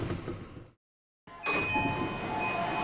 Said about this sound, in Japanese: 日中でも列車が続々とやってきます